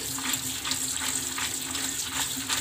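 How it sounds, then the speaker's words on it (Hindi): Fresh water runs steadily from a kitchen tap over drained cooked macaroni in a strainer, a continuous close splashing rush without speech. "मैं ताज़ा पानी इस पर डाल रही हूँ ताकि ये चिपके ना"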